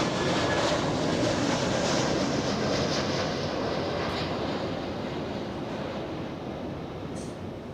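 A Delta Airlines Airbus A321neo arrives at Los Angeles International Airport with a loud, broad, continuous jet roar that eases off slightly toward the end.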